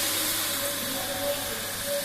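Ginger paste sizzling in hot mustard oil in a wok, with panch phoron, dried red chilli and bay leaf already in the pan: a steady, close, bright hiss that runs without a break from start to end.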